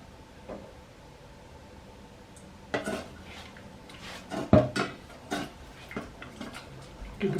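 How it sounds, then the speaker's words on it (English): Custard being stirred in a pan over low heat, a spoon scraping and knocking against the pan in irregular clinks and taps, fairly close and moderately loud, with no talking. "Give it a good stir."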